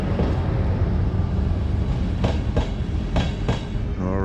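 Train passing at night on a rail journey across Europe, heard from on board: a steady loud rumble with a few sharp clicks and clacks of the wheels, no voices.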